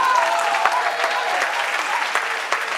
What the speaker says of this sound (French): Je pense que ça mérite de les applaudir.